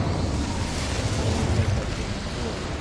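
A fire spell blast in Hogwarts Legacy gives a dense, roaring low rumble that keeps up steadily for about three seconds. It is loud and close, with no pause.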